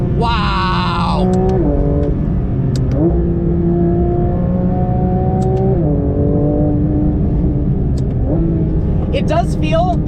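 Porsche 911 GT3 RS (992, 2023) flat-six engine revving hard toward its 9,000 RPM redline, wailing loudly and climbing in pitch through repeated upshifts, with brief dips between gears, close and sustained throughout.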